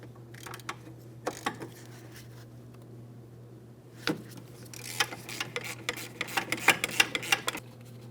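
A ratchet works a brake caliper mounting bolt on a 2007-2014 Ford Edge, with quiet workshop hum at first and then a run of quick, close, dry clicks in uneven bursts over the last few seconds.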